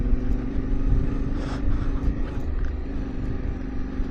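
A Yamaha Ténéré 700 adventure motorcycle's engine rumbles steadily as throttle is applied on slick sand and rocks, a continuous moderate drone with a slight swell partway through.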